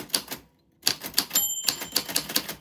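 A typewriter clacks with steady, close keystrokes, then a short pause, then a brief bright bell ding as the typing carries on in a rapid run.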